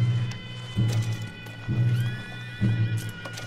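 In the game Red Dead Redemption 2, horses snort and whinny close by with heavy, regularly spaced hoof thuds, three strong beats over a steady background hum.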